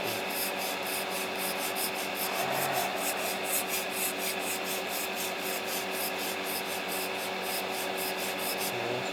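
Steady rhythmic rubbing of sandpaper back and forth against a small hard plastic model kit part, a Hasegawa 1:12 figure, close up and continuous, with no talking.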